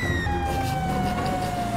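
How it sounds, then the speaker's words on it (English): Broken police car siren in the video game GTA 5, a steady electronic tone that drifts slowly downward in pitch, loud and continuous for about two seconds, with no talk. "now you get to drive around with this, like, broken siren."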